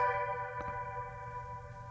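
An airy, atmospheric synth preset from the Ujam Stranger plugin holds a steady sustained pad of layered tones, with one brief percussive tick near the start and no voice.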